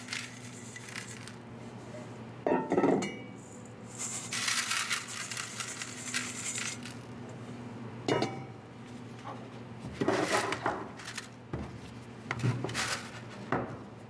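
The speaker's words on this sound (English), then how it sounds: "we're going to start by putting each one of our samples in our pans" Sand samples being tipped into metal pans during a laboratory sand equivalent test, heard as scattered clinks, scrapes and pouring rattles in bursts, fairly close, with quiet gaps between.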